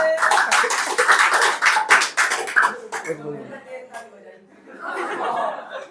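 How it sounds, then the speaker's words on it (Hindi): Students in a classroom clap in a rapid burst of dense, close handclaps for about three seconds, then it fades into quieter laughter and chatter. "इसी नाम पर तुम ताली बजा लो अपने नाम पर।"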